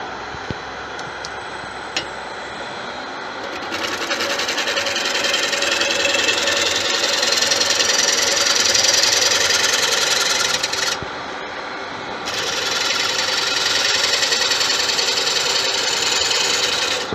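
A woodturning lathe runs as a carbide tool makes a very light pass over a warped resin bowl, giving a steady, close scraping hiss over the motor hum that briefly drops out near the end before resuming.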